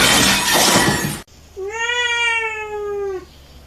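A little kitty gives one long, clear, close meow just after a loud, harsh crash of noise that cuts off abruptly.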